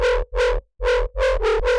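An FM sine bass runs through hyper dimension and distortion effects, playing a buzzy, harmonically rich synth tone in rhythmic pulses, with a brief gap partway through, loud and close with no talking.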